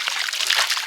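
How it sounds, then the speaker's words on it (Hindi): Water is poured over a child during playful soaking at home, making a continuous close splashing and trickling rush with no pauses. "के ऊपर पानी डाल रही है।"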